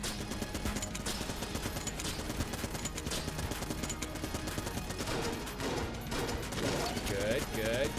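Rapid bursts of gunfire from the video game Enter the Gungeon crackle continuously at moderate level, mixed with mechanical clicks and game effects throughout.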